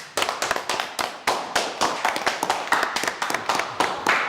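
Applause breaks out in a Chinese wartime kung fu film. Several hands clap close by in brisk, uneven bursts that continue steadily with no talk.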